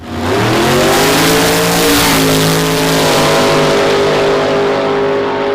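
A single-turbo station wagon launches down a drag strip, its engine roaring loud and close, then rising in pitch as it accelerates hard before easing slightly toward the end.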